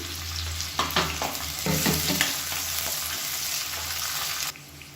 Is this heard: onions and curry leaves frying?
yes